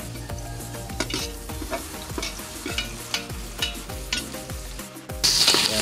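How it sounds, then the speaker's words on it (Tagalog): Beef papaitan sautés in a pan with a steady loud sizzle, while a utensil stirs and scrapes the pan in a regular rhythm, close and with no voices. "Yan guys, gisa na natin itong papaitan."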